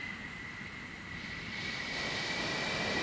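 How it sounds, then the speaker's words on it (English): Twin F-14 jet engines in a video game spool up as a steady, broad roar with a high whine, slowly growing louder over the few seconds. "I hear engines spooling up."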